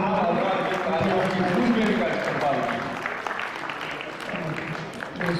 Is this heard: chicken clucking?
no